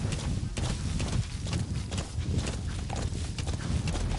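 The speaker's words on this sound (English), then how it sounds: "Use your horse." In the game Metal Gear Solid V, a horse's hooves clip-clop in a steady galloping rhythm over the ground, mixed with continuous ambient game noise and no talking.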